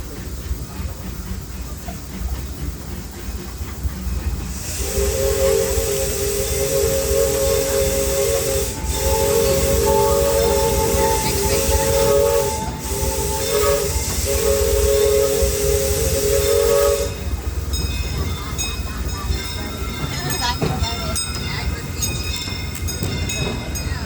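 Disneyland Railroad steam train in Anaheim, California, rolling along with a steady chuffing rumble and hiss while its steam whistle sounds long, loud blasts broken by short gaps, then fades back to running noise.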